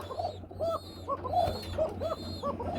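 Male and female pigeon pair cooing together in a loft, soft repeated rolling coos in a quick rhythm close by, several calls over a low steady hum.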